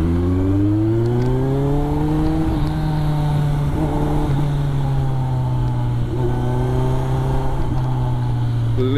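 Royal Enfield Himalayan motorcycle engine idling and revving up and down in a steady, throaty drone, close and continuous throughout.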